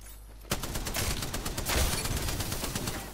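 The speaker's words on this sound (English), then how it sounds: "Sound like there's quite a few shooting as well." Gunfire in the video game Apex Legends, a sudden close burst of rapid shots erupting after a quiet half second, then sustained loud overlapping fire for the rest of the clip.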